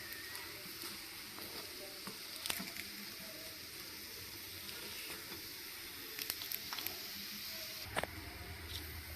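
Gram flour batter frying in a pan for a simple dinner, a steady close sizzle that runs without pause, with a few faint clicks and taps over it and no talking.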